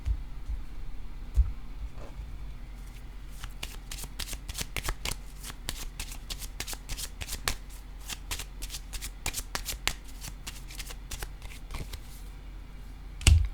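A deck of cards being shuffled and drawn, with a quick run of crisp riffling snaps and flicks in a quiet room; the card sounds come through close and clear, with no talking.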